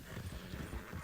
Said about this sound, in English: Actually, hearing his horse, I'm going to slow Moxie down.